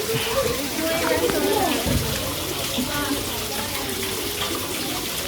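Water runs steadily through a toy dragon treasure castle, a continuous splashing trickle like a small tap that lasts throughout, with people talking over it.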